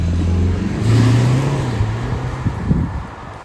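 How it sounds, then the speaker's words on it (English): A diesel car in sport mode launches hard with launch control, its engine droning loud and close as revs climb and then ease under rising road noise. "Foot hard on the brake, hard on the accelerator, launch control active."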